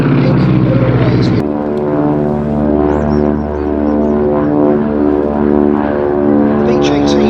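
A Beech 18 twin-engine aircraft dating from 1937 flying at an airshow, its radial engines giving a loud, throbbing drone with shifting beat patterns, while someone narrates over the sound throughout.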